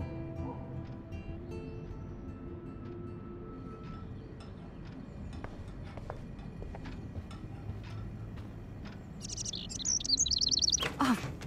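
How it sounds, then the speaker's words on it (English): A small bird chirps in short, bright, rapid bursts indoors in the video game Life is Strange, standing out near the end above faint ticking and low room ambience. "Can you help me get this bird out of here?"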